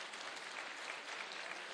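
A crowd claps steadily at an Iftar dinner in Karen, a dense, even patter of applause that holds throughout, heard at a moderate distance with no voices standing out.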